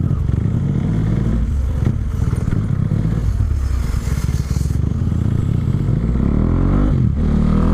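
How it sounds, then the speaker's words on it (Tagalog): Several motorcycles pass along a road on a busy occasion day, their engines loud and near, with a steady roar that swells and recedes and clattery road noise underneath. "Medyo maraming motor ngayon dito dahil may okasyon."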